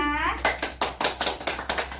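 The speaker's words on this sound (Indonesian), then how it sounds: "Tepuk tangan buat Naira." A classroom of children claps for a student: a rhythmic run of about eight broadband hand claps at a steady beat, moderately near, with a brief spoken voice at the very start.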